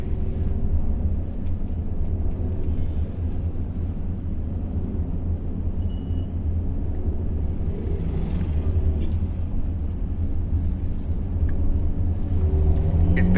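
Steady low engine and road rumble from inside a Mercedes-AMG GLE 43 Coupe SUV, growing slightly louder toward the end as it accelerates to overtake a lorry.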